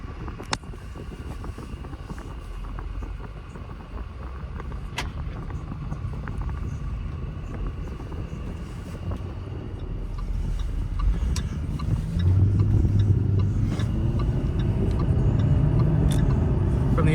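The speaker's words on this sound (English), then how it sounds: "From the inside, this is getting her going with the exhaust currently closed and the car in our regular driving mode." Heard from inside the cabin of a 2016 Jaguar F-Type R in regular driving mode with its exhaust closed, a steady low engine rumble with some wind noise swells gradually louder as the car pulls away and gathers speed.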